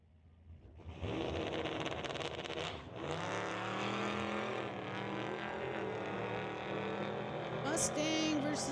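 A Mustang and a Subaru drag race, with the Mustang blowing smoke at the start. After a quiet lead-in the engines erupt loudly and hold a revving roar through gear shifts, with a brief high squeal near the end.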